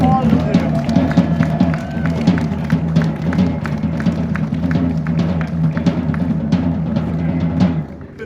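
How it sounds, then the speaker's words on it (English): A crowd at an outdoor jail accountability rally claps for families in a steady patter of hands lasting about eight seconds, with low murmuring voices underneath and the sound stopping abruptly near the end. "give all these amazing families that's been touched an applause. Come on, give it up for them, all of them."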